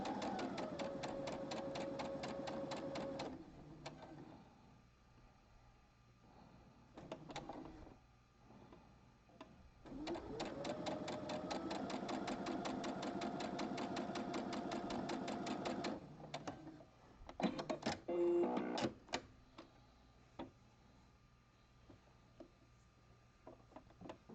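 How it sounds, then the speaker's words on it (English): An overlock sewing machine stitching elastic onto a fabric edge for a jockstrap, running in two long, fast, rhythmic bursts with quiet gaps and some handling clatter between them. "I'm going to do that with the overlock machine"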